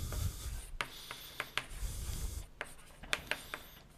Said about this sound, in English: Now just let me write it down again.